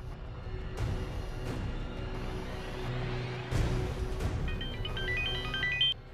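A phone's short melodic text-message alert chimes near the end of a TV drama scene, rising in quick stepped tones over a steady bed of background music and ambience.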